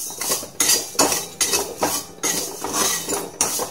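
Tea leaves and sugar being dry-fried in a pan, with repeated scraping and clinking of a metal spoon against the pan in an uneven rhythm, close and fairly loud with no talking.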